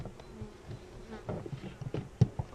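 Honeybees buzz steadily around an open hive during an inspection with a telescoping cover, a dense low drone with occasional louder passes close by and soft handling knocks.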